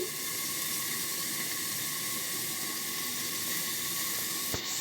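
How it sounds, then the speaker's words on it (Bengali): Vegetables frying in a covered pan on a home stove while Bengali vegetable dishes are cooked, giving a steady, even hiss and sizzle throughout, close and continuous, with a brief clink near the end. "ভালো করে ভেজে নেবো এখন নুন দেবো না একটু পরে নুন দেবো এটা চাপা দিয়ে দিয়ে ভেজে নিই"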